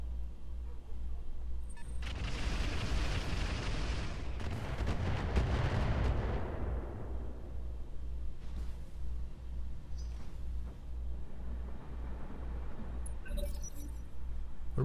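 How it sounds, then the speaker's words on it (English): Artillery turrets fire in the mech game Roguetech: a heavy, rumbling broadband blast swells for a few seconds and then fades into a long decaying tail, with faint clinks afterward. "Both those turrets are artillery turrets."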